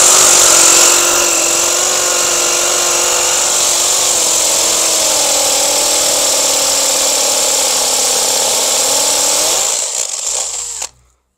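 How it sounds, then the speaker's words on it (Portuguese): A FortG brushless cordless drill runs steadily at high speed, a loud continuous whine with a slight pitch dip midway, drilling a hole before winding down and stopping near the end. "se precisar furar mais, ela fura ainda, hein?"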